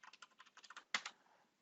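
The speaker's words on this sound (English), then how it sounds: "this and type in the code." Quick run of keystrokes on a computer keyboard as a code is typed in, about a dozen light clicks ending in a sharper final key press, close and alone with no talking.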